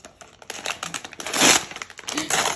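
A plastic bag is opened and rustled by hand close up, giving a run of irregular crinkling and crackling bursts that swell loudest midway, with no speech.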